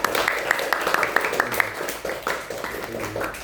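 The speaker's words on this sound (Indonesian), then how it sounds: "Tepuk tangan dulu untuk mereka berdua." Students in a classroom clapping together, a brief burst of quick, fairly close claps over a murmur of voices that soon thins out.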